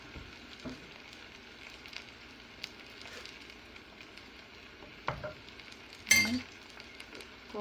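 Coconut oil and turmeric sizzle faintly in a pan while being stirred for spiced rice noodles, a low steady crackle with a few clinks and a brief louder scrape near the end.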